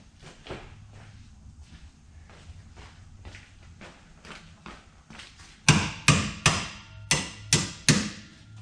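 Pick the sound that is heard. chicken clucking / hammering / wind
hammering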